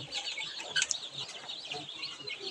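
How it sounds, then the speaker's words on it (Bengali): Broiler farm chicks chirp and cluck in a dense, continuous chorus, with a brief louder burst of peeps near the middle. "ফার্মি মুরগির বাচ্চা"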